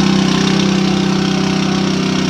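A trailer's own small engine runs steadily to drive its hydraulic pump, a loud, close, continuous chugging drone with a regular pulsing rhythm, heard alone without speech.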